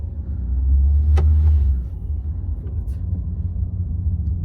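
Renault Megane IV with a 7-speed automatic pulling away from a stop, a low engine rumble swelling briefly and then settling into a softer steady drone, with someone speaking.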